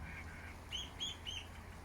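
Three short, bright calls from a scarlet macaw parrot out in the sun, evenly spaced and moderately close over quiet outdoor background.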